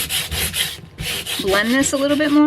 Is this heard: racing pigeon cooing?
no